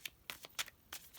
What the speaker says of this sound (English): feel free to skip through the shuffling if you'd like to